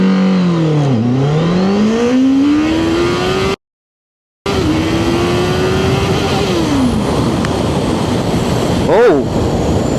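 A QJMOTOR motorcycle accelerates hard in winter, its engine note dipping at a gear change and then climbing steadily and loudly, broken by a brief dropout before the roar resumes.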